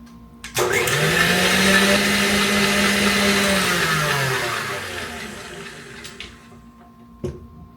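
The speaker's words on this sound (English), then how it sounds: "What I'm going to do is blend up my butter and my cream cheese together" A kitchen blender whirs steadily for several seconds, blending butter and cream cheese together, loud and close, then spins down and stops, with a couple of brief clicks near the end.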